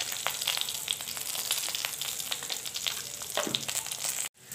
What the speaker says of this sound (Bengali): এখন এখানে আমি দিয়ে দিচ্ছি তেজপাতা, দিয়ে দিচ্ছি লবণ 1 চামচ।